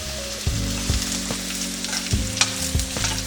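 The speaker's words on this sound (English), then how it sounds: "We're going to add our mushrooms, and that's the sound that you want on your pan." Mushrooms are added to a very hot pan of olive oil and fry with a loud, steady sizzle, with low scraping and stirring knocks underneath.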